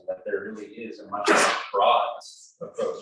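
A single sharp sneeze bursts out mid-sentence during a spiritual care seminar talk, loud and close, with a man's speech continuing on either side of it.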